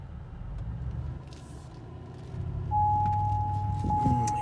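A 2006 Hummer H2 Limited Special Edition idles with a steady low engine rumble before a drive, growing slightly louder partway through as a sustained tonal chime sounds over it.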